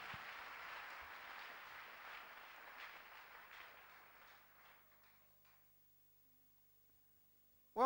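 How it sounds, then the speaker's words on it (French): A church congregation applauds and cheers for the Lord, a soft wash of clapping that fades away over about five seconds into near silence, ending with a brief sharp sound. "Acclame fortement le Seigneur."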